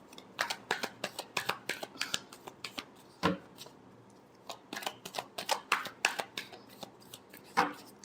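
Tarot cards are shuffled close by in a quick run of crisp riffling flicks that comes in two bursts split by a brief pause and a sharper knock.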